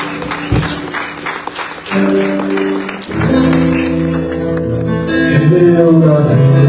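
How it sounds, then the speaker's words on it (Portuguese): A church congregation claps during a Lord's Supper service, dense applause that soon blends with sustained keyboard or organ chords as worship music swells and carries on beneath the clapping. "Aplauda o Senhor Jesus."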